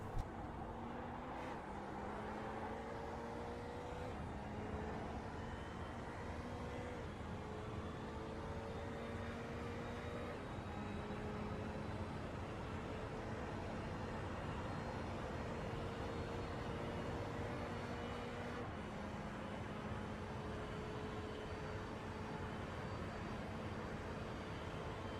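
A race car on the Daytona road course drones steadily at high revs, its engine pitch stepping up through gears and easing back as the throttle is worked, heard continuously from onboard without talk.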